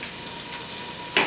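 Chopped onions and garlic frying in a pan for pilau give a soft, continuous hiss, with a brief louder stirring scrape at the very end.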